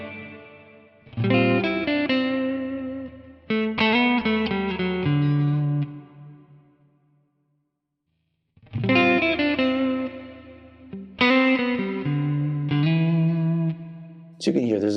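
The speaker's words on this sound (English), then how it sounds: "if you want to kind of darken up the whole reverb, you can cut off some of that top end" Electric guitar run through a Quad Cortex modeler with reverb, its top end cut to darken the tail: two bursts of strummed chords and picked notes, each ringing into a smooth reverberant decay, with a silent gap between.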